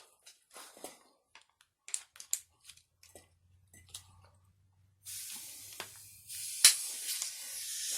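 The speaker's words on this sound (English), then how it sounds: "And then get your air nozzle." Compressed air from an air nozzle blasts into a VTC gear, a loud steady hissing rush that begins partway through after quiet clicks and handling noises, with a sharp burst near the end.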